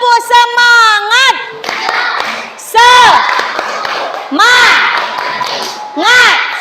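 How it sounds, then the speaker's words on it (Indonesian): Schoolchildren in a classroom doing the tepuk semangat clapping chant, with bursts of rhythmic claps mixed with loud sung and shouted children's voices in repeated phrases. "Ayo kita sebelum pulang kita tepuk semangat"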